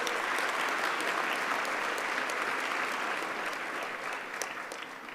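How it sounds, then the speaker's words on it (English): A crowd applauds at a launch event for disability technologies, a steady, even roar of many hands clapping that continues throughout and only slightly thins toward the end, heard at a moderate distance. "A well-deserved another round of applause for Ms."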